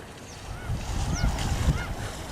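Gulls squawk and cry a few times at a distance along a marshy stream, short rising calls over wind and low rumbling background noise.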